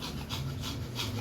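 A dog pants rapidly and rhythmically up close, quick breathy rasps repeating about three times a second over a low background hum, with no talking.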